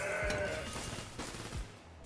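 A goat bleat sound effect from the Legends of Runeterra digital card game plays once near the start, short and clear over layered game effects, with no voices.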